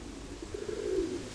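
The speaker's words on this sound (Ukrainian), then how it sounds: "то голубка, мабуть" A pigeon, likely a hen, gives a single soft, low cooing call at close range in a quiet loft, brief and faint.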